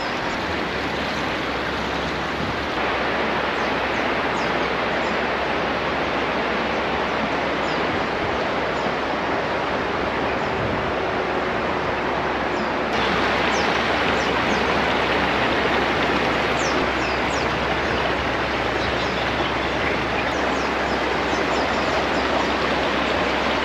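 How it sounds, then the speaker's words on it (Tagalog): River water flowing beside a riverside campsite, a steady broadband rush that stays constant and fairly loud for the whole stretch, with no voices. "masarap ng naririnig mo yung daloy ng ano, yung agos ng tubig"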